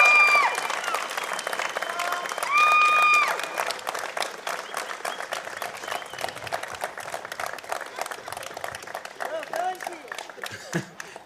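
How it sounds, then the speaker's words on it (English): A convocation audience at a university ceremony applauds in a long, dense round of clapping from a large crowd, with a few brief tonal sounds early and some voices in the hall. "Let's have a round of applause for the support for you."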